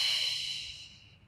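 A long, airy exhale during a yoga core exercise, loud at first and fading steadily over about a second, close to the mic with no talking.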